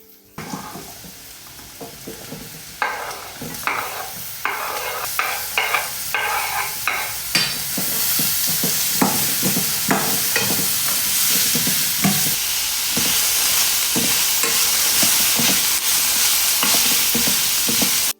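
Beetroot stirred into a pan of sautéed onion, green chili and garlic for beetroot chutney, rhythmic spatula scrapes over a rising steady sizzle, close and fairly loud.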